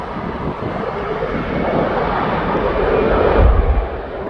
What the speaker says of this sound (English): This aircraft looks like it's turning and burning